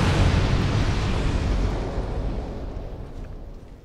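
A thrown bomb explodes in the Dark Souls 2 video game, a loud broadband blast that gradually fades out over several seconds.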